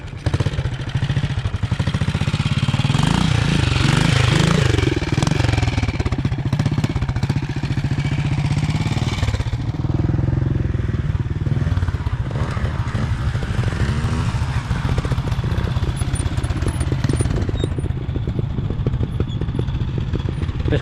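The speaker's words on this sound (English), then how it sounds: "350 BSA. Very nice sounding machine. Runs very well." A BSA 350 trials motorcycle engine runs steadily on grass at an evening trial, a loud, close, continuous thumping drone with slight rises and dips.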